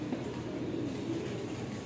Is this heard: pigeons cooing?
yes